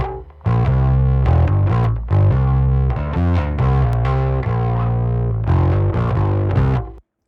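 A gritty, heavily distorted bass guitar plays a driving riff in short phrases, loud and upfront, ending abruptly.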